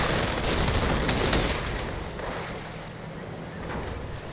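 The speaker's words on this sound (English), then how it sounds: "All these Katyushas coming in to help barrage the Axis area" A Katyusha rocket artillery barrage in Company of Heroes pounds away, dense overlapping booms and crackling blasts packed heavily in the first second and a half, then a lower rumbling tail of more distant explosions.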